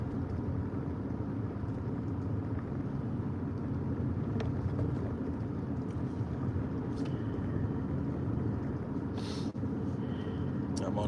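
Steady low road rumble and engine drone fill the inside of a moving car for several seconds, constant and close with faint clicks, while people talk over it.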